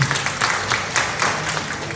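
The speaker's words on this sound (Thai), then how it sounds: "ปรบมือให้น้องด้วยค่ะ" An audience at a presenter-training session led by an MC applauds for a young participant, a steady broadband patter of clapping running continuously throughout at moderate level.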